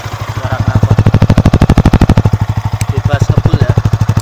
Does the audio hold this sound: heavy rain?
no